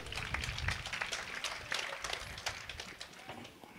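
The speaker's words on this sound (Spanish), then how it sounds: "dale palmas a Jesús" A church congregation claps along in a quick, dense patter, fairly faint and distant, with some voices mixed in.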